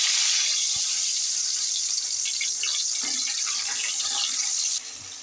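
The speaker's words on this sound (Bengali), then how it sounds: "মাছগুলো ভেজে নেব।" Pomfret fish fry in hot mustard oil, producing a steady, loud hiss and crackle that holds throughout and then drops slightly near the end.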